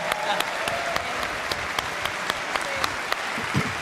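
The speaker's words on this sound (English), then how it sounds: "Give her a round of applause, though," An audience at a conference in Birmingham claps steadily, a broad wash of applause with sharp individual claps popping out at a regular pace, fairly close and sustained.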